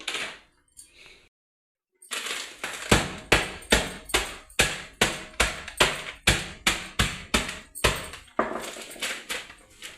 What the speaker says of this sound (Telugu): నేను ఇలా చితక్కొట్టేసుకున్నాను.